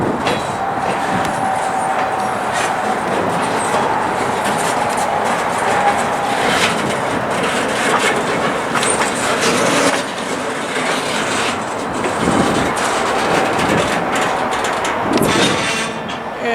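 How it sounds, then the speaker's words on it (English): Freight cars rolling behind an engine on a rail branch line, with loud continuous clickety-clack of wheels over joints, metallic rattling and occasional faint squeal, close by throughout. "place all the cars behind the engine so that when they head down Schuyler Street, it won't be a shove move"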